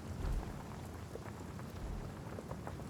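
Steady rain with low thunder rumbling through a stormy scene in the video game Divinity: Original Sin, a continuous wash of falling rain with a deeper swell near the start.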